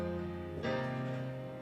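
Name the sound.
three-chord progression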